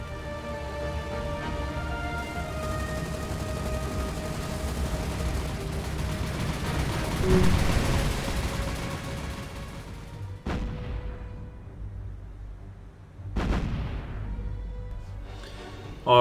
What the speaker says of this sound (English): Got some secondary shells from the Missouri still coming in there